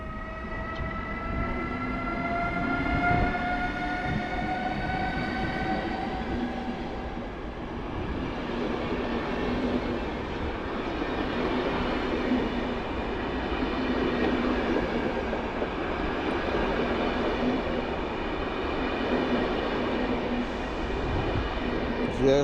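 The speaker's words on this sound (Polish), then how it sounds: "do odjazdu powoli szykuje się pociąg Bolesław Prus przed nami EU200" Express Intercity train Bolesław Prus with EU200 locomotive 007 at Warszawa Wschodnia station, a steady loud rumble with tonal electric whine fading under continuous station noise.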